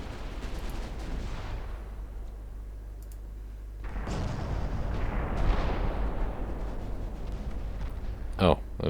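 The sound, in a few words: naval gunfire and explosion, Ultimate Admirals Dreadnoughts video game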